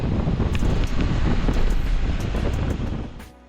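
Ocean waves roar and crash continuously at Patenga beach in Chittagong, Bangladesh, amid gusting wind buffeting the microphone, loud and close, fading out at the end.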